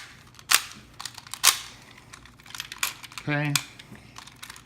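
The wings of a vintage Godaikin BioDragon die-cast toy robot are folded, giving sharp plastic and metal clicks and snaps spaced irregularly, with a brief ratcheting buzz; a voice briefly speaks.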